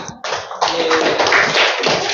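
Schoolchildren in a classroom break into a short burst of hand clapping after a brief pause, the claps bright and close for about two seconds.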